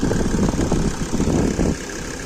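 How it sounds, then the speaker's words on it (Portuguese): A five-cylinder diesel engine of a Mercedes-Benz C 250 Turbodiesel (W202) idles smoothly and steadily, a low even rumble close by with no voices. "esse motor também é bem mais suave do que o motor de 4 cilindros a diesel"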